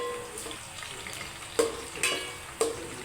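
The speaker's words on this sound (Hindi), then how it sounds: "लाल होने तक प्याज को अच्छे से भून लें।" Onions frying in hot oil for a chicken curry, a soft steady sizzle with a few sharper crackles and stirring scrapes that rise briefly and fade, close by with no talking.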